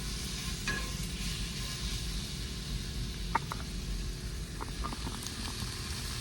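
Carrots frying in a pan with smoky maple seasoning give a steady, low sizzle that holds evenly throughout, with a few faint clicks of utensils near the middle.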